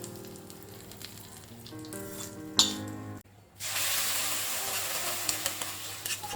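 Hot tempering with curry leaves poured over a black chickpea kessi curry: after quieter kitchen sounds and a brief pause, a loud, sudden sizzle bursts up and keeps hissing steadily, close by and without speech.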